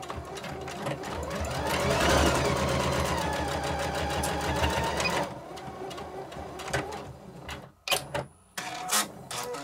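A sewing machine stitches a fabric storage pouch for cloth masks, running in a steady whirring burst that rises and holds, then stops and gives way to a few faint clicks and handling sounds.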